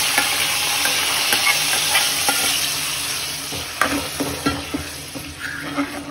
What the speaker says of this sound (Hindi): और ये चिकन इसी में डाल देंगे ऐसे ही